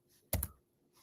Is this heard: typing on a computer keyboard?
yes